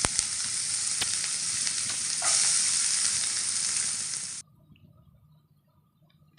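Onions sauté in oil with mustard seeds for a pepper and cumin kuzhambu, making a loud, dense, close sizzle for about four seconds that then cuts off abruptly into near silence with faint clicks.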